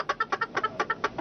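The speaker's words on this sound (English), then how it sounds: "Remember that fight between neighbors over noisy chickens?" Backyard chickens clucking in a quick, uneven series of short, close clucks, about ten in just over a second, with no talk.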